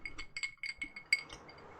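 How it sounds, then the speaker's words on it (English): Ice cubes clink against the sides of a glass in a quick series of bright, close taps and rattles, with a few louder knocks, heard alone with no talking. "Ice cubes in the glass are such a comfort noise for me."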